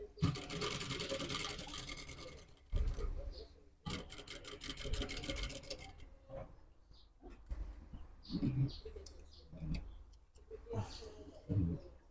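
A sewing machine topstitches panels of a black old-school safari jacket in quick bursts of rapid mechanical ticking, separated by pauses filled with softer handling noises.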